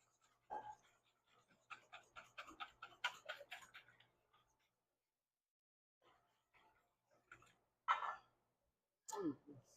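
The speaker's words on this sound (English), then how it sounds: "I'm just going to stir this up real fast before I add my pumpkin and my brown sugar" Vanilla extract and dry spice stirred together in a bowl: a quick run of close, rhythmic clicking and tapping from the utensil, followed by a quiet pause and a few scattered knocks.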